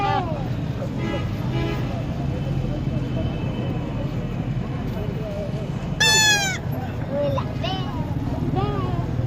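Goats bleat at a livestock market in Lahore, several calls rising over constant crowd chatter and background noise, with one loud, close bleat standing out midway and fainter ones scattered around it.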